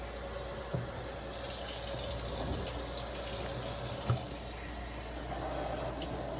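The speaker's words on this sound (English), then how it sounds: "So now I'm gonna rinse this out." Steady stream of water running from a tap while rinsing hair, a continuous broadband hiss with a couple of faint knocks, fairly close.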